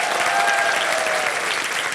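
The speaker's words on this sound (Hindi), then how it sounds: "तालियां इसके लिए।" Studio audience applauding a motorcycle traveller on a television show, loud continuous clapping from a large crowd, even and sustained throughout, with faint background tones beneath.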